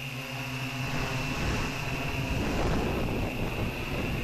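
Strong wind buffeting a microphone outdoors during a hexacopter's maiden flight, a steady loud broadband roar with a droning motor whine running through it, continuous and close.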